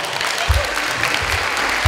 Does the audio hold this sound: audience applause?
yes